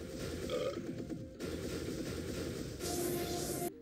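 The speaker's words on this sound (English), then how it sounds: "Eat enough and you're rewarded with a food-induced burp of death." A furry creature in a video game lets out a long, loud, gurgling burp after eating, rasping and rolling for several seconds in distinct stretches, with no talk over it.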